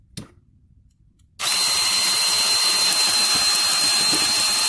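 Power drill spinning its bit against a spark arrestor rivet on a Honda CRF250R exhaust, a steady loud whine that kicks in abruptly after a brief quiet moment and holds constant.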